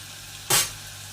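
Curry leaves dropped into hot oil for rasam give a single brief, bright sizzle burst that rises sharply and fades within about half a second over a steady low background hum.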